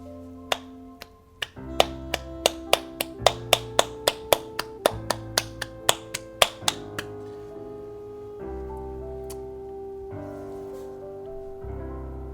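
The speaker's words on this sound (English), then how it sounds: "I would like to emphasize that clapping was genuine in case that sounded like sarcastic clapping" A small group of people clap in a run of sharp, evenly spaced claps that stops partway through, leaving a soft sustained musical tone underneath.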